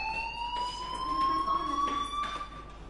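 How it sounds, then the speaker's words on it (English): A school fire alarm in the video game Life is Strange wails, with a rising tone repeated twice in steady cycles at moderate loudness and no talk over it. "Hey, do you hear that fire alarm?"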